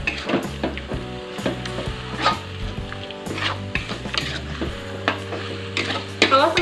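Shredded chicken filling with salt, sugar, seasoning, oyster sauce and sweet soy sauce stirred in a pan, a quick run of spatula scrapes and knocks over a soft sizzle, close and fairly loud.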